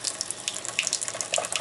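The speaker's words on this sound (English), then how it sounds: "And strain off your water." Cooking water from ramen noodles pours out into a kitchen sink as they are strained, a close, steady splashing gush lasting the whole short stretch with no speech.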